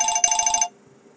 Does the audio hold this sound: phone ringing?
yes